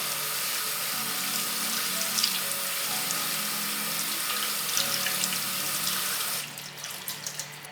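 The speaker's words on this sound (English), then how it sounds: "we're also going to rinse the rice noodle through cold water" Cold tap water runs steadily over rice noodles in a sink for Vietnamese spring rolls, a loud continuous hiss that breaks near the end into a few splashes and drips.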